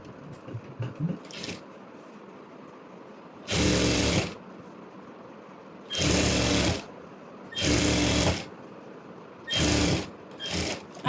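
A sewing machine stitches along the edge of saree fabric in five separate bursts of whirring, each roughly a second long and close up, with quiet handling noise in the pauses between runs.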